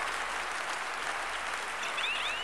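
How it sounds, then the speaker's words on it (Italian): Applause from a TV comedy studio audience at Zelig, dense steady clapping throughout at moderate distance, with no voices over it. "È un applauso tipicamente maschile"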